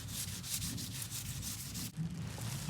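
Sandpaper rubbing steadily over a Lexan polycarbonate car window panel during restoration, a continuous close scratchy hiss in quick back-and-forth strokes with a brief pause near the end.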